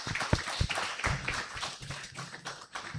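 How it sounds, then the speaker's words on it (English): A small audience at a panel discussion claps for the panelists, a few close, uneven hand claps and taps standing out individually rather than forming a dense wash of applause. "I would want you to all to give a round of applause to our great panelists."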